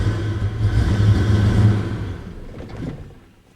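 A car engine fitted with an SCT Eliminator chip rumbles loudly as gas is applied, then bogs down and dies away, the low drone fading out at the end.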